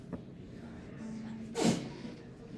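A single sharp sneeze bursts out near the middle, short and fairly loud against a quiet room during a math lesson, with faint background noise before and after.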